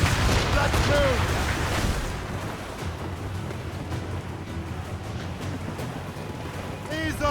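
Naval cannon fire from a sailing warship in Assassin's Creed Rogue, heavy booming volleys over rushing sea and wind, with shouted crew voices mixed in throughout.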